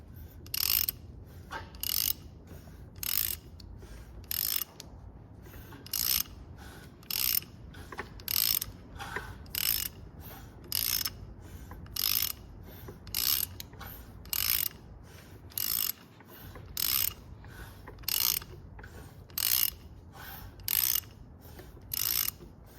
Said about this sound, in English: let's turn it over and hopefully you guys can hear something